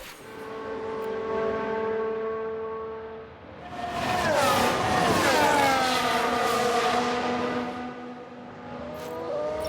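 Several Formula 1 cars in a simulated race crash in the F1 Manager 2022 game, with steady engine drone breaking into a louder burst of mixed, shifting engine tones and clattering noise midway through.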